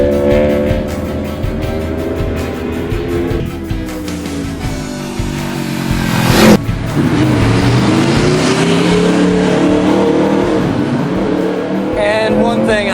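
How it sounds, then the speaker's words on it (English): A 2015 Aprilia RSV4 with a 65-degree V4 engine revs hard and close, its pitch climbing and dropping through several sweeps with a sharp burst midway, loud and continuous throughout. "the sound of that V4, 65 degree V4, it's like something straight out of the MotoGP paddock"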